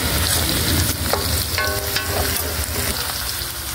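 Food sizzles and crackles steadily in hot oil, a close, continuous frying hiss with a few scraping stirs.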